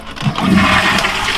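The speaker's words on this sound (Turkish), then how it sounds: "Hemen şimdi sifona basacağım şöyle." A toilet flushes with a loud, close rush and gurgle of water that swells and holds for its whole short length, with no voices.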